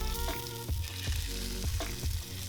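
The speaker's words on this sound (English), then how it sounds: "keeping the pan nice and hot, we're going to flip it over and cook both sides" A steak sears in a hot pan after being flipped, giving a loud, continuous sizzle with several heavier bursts of crackling and low knocks from the pan, alongside faint music.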